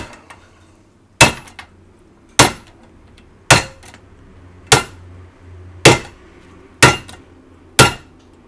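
Sharp metallic hammer blows strike a 1975 Yamaha 25B outboard motor, eight loud, close knocks spaced about a second apart, each ringing briefly before fading into near silence.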